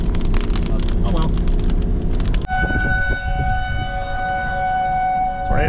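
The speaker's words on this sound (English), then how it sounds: "Tornado sirens are going." Tornado sirens wail steadily in the distance during a churning storm, a sustained tone beneath wind and rain noise, with a voice speaking early on.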